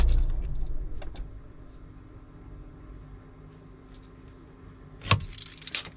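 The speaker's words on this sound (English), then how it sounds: "Going to switch off the engine." A car that now has to be jump-started has its engine switched off at home, the low idle rumble fading out within the first second or two, followed by a quiet lull and a short jangle of keys near the end.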